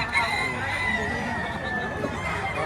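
A double-banded rooster crowing amid a lively cockfighting crowd, the crow faint under steady chatter and someone talking nearby.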